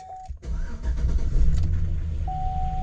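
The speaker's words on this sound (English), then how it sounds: "All right, so after all that, will it crank?" A truck engine cranking and then firing after a tune-up: a brief whir of the starter, then the engine catches and settles into a loud, steady idle close by.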